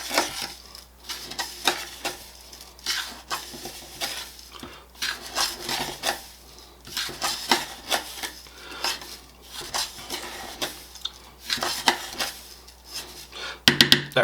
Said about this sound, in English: I'm going to add a 1/2 cup of quick oats and just stir them in